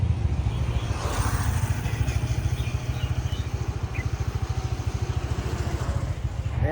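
Motorbike engine close by, chugging with a rapid, even pulse at low revs as it pulls away, loud and steady throughout.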